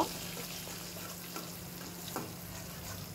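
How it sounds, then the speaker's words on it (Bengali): Egg frying in mustard oil with a little salt, stirred into crumbles: a continuous close sizzle broken by a few sharp scraping stirs, with no voices. "এখন আমি এগুলো একদম ঝুরি ঝুরি করে ভেজে নিব"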